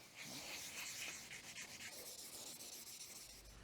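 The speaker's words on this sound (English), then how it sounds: "With the sink sanded smooth" A bathroom sink is sanded smooth by hand, making a faint, steady abrasive rasp that runs unbroken for a few seconds without speech.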